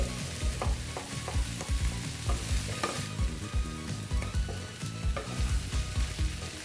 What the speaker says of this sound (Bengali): এটাকে আমি ভালো মতন একটু কষিয়ে নিচ্ছি